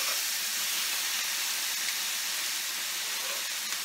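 Korean beef short ribs sear on a grill, giving a dense, constant sizzling hiss at close range. The level holds even throughout with no voices.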